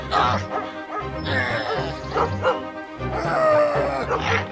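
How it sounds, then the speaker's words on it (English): Dogs bark repeatedly in a children's story about a shepherd's dogs chasing off a wolf, with loud, close yips and bow-wows in bursts, some sounding whimpering, with other sounds mixed in. "The dogs chased the wolf away and saved the lamb."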